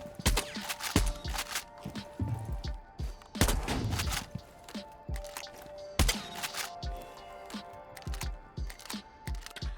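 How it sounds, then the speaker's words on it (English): Supernova shotgun blasts in Rainbow Six Siege, several sharp loud reports spaced a few seconds apart amid footsteps, clicks and quieter game noise. "he comes with the completely busted Supernova shotgun that is a better sniper rifle than Kali Sniper will ever be"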